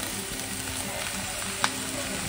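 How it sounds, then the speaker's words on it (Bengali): Chowmein noodles hit a hot pan of already fried vegetables and egg, and a steady close sizzle of frying runs throughout, with one sharp clatter near the end. "এবার চাউমিনটা দিয়ে দেবো।"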